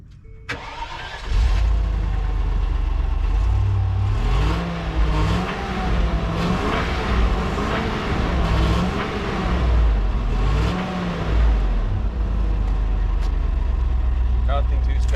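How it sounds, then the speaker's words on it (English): Stock-exhaust Land Rover Discovery II and LR4 engines cranking and starting, then revving repeatedly in rising and falling sweeps before settling to idle, loud and close with people talking over them. "we'll go fire them up and you guys see how they sound"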